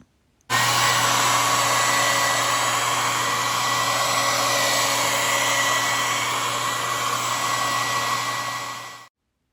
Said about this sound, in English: I used the hair dryer to dry the pork skin